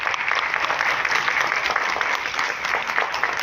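An audience at a Minority Day gathering at the Arts Council in Karachi claps steadily for the Deputy Speaker, a dense, sustained wash of applause filling the hall with no pauses.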